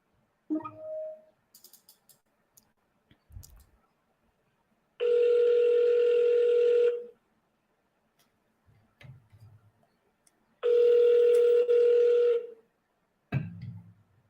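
A telephone ringing tone sounds twice during a redialed call, each ring a steady electronic buzz lasting about two seconds with long silent gaps between, alongside a few soft clicks and handling noises.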